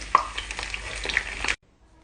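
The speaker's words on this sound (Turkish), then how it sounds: "Patlıcanlarımı kızgın yağıma koydum. Arkalı önlü kızartıyorum." Eggplant pieces fry in hot oil for a karnıyarık dish, a brief crackling sizzle with small pops that cuts off abruptly.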